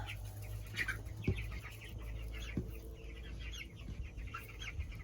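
Young meat chickens, broilers about four weeks old and losing their yellow down, cluck and peep steadily in a brooder, a soft chorus of overlapping calls over a constant low hum.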